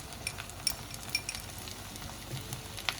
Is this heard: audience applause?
no